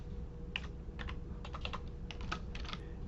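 Quiet bursts of typing on a computer keyboard, several short runs of key clicks separated by pauses, entering the name of a piece of farm machinery, with no voices.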